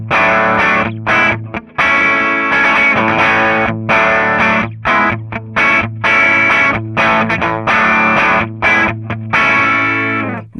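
A hot-output electric guitar on its bridge humbucker runs through an AMT F1 preamp at maximum gain, playing loud, heavily distorted chugging riffs with sharp stops and restarts.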